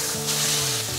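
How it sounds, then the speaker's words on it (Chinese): Rice with tomato and ketchup stir-fried in a hot wok, a brief steady sizzle with a constant low hum underneath, close and continuous. "快速翻炒"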